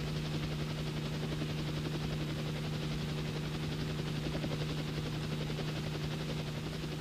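A military helicopter in flight makes a steady, droning rotor and engine hum with a constant tonal buzz, unbroken and moderately loud throughout.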